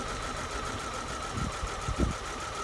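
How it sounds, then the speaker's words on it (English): A Vauxhall Astra engine idles with a steady mechanical drone during an ignition coil misfire test, with a couple of faint uneven knocks partway through, heard close and alone. "Number one, listen for the engine."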